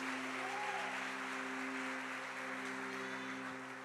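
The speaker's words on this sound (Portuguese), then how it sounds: "você pode aplaudir ao Senhor se você crê nisso" Steady applause from a church congregation at Lagoinha Rondonópolis, a soft, continuous patter of many hands held under a sustained keyboard-like drone, fading slightly toward the end.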